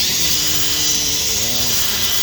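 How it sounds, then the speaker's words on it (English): A high, steady whine of a power drill spinning continuously, loud and close, with a faint voice briefly underneath, during a fog light housing install on a 2014 GMC Yukon XL. "I just take this drill"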